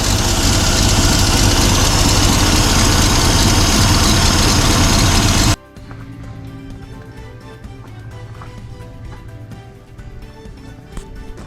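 A 1981 Toyota Land Cruiser FJ60 engine runs in a steady, loud, rough drone for about half the span, then cuts to a quieter, lower idle rumble with faint clatter.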